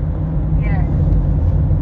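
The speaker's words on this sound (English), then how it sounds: "I'm in a car." Low, steady road rumble and engine drone from inside a moving car, continuous throughout, with a faint higher whine drifting in briefly.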